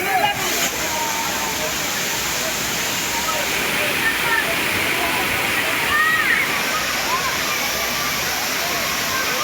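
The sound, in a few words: Thirparappu waterfall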